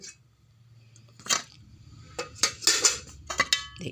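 Small steamer pots, stacked tiers and metal vessels are handled, giving a few brief clanks and knocks that come closer together toward the end. No voices are heard.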